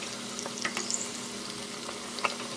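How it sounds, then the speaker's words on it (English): Chicken wings frying in a deep fryer in a home kitchen, a soft, steady sizzle and bubbling with scattered small pops and crackles, close but fairly quiet. "So the last batch in the deep fryer."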